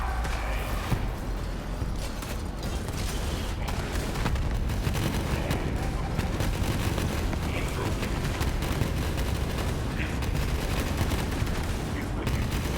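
Shotgun gunfire in the video game Borderlands 3, a dense continuous barrage of blasts and booms with overlapping impacts throughout, loud and unrelenting with game effects layered in.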